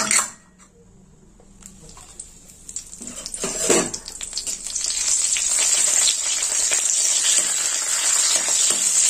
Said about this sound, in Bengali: এতে 4 চামচ ঘি আছে। ফোড়নে দেবো 2টো তেজপাতা।